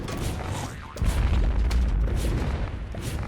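An explosive rifle fires in the Plants vs Zombies Fusion mod, with dense booming blasts and rumbling impacts that thicken after a second and carry on amid busy game effects.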